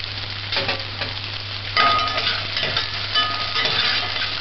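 Onions sauté in a pan for corned beef with green peas, giving a continuous close sizzle with soft stirring scrapes and a steady low hum underneath.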